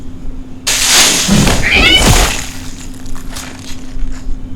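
Cats yowling and crying out in a TV horror drama scene, a loud burst of strained, wavering wails that swells, then fades into quieter rustling and scraping.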